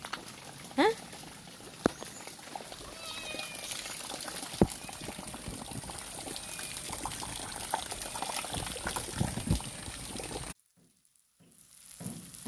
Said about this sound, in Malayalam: മീൻ അടുപ്പത്തായി, മീൻ വറുത്തോണ്ടിരിക്കുകയാണ്